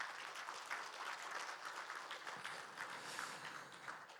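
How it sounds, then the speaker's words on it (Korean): An audience at the founding ceremony gives sustained, even applause to welcome guests, a dense wash of clapping with no break. "큰 박수로 환영해 주십시오."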